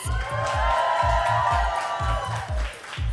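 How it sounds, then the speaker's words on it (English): An audience at the GHD 20th anniversary underground unplugged launch event cheers and applauds, whoops rising over a steady thumping music beat that pulses throughout. "So, a round of applause, please."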